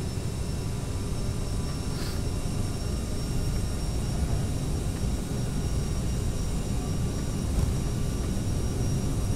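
Steady, loud roar of jet engines at takeoff thrust on a regional airliner in a flight simulator, an unbroken broadband rush holding constant throughout with no talk over it.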